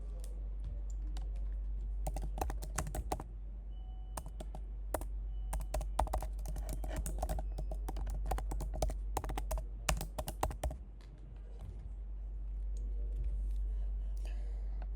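Bursts of typing on a computer keyboard come in quick clattering runs of close, crisp keystrokes with short pauses between, over a low steady hum and no talk.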